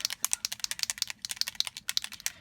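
Quick rattling clicks of a mixing bead knocking inside a shaken bottle of Marabu copper fabric paint, tapping in a fast uneven rhythm, close and fairly quiet.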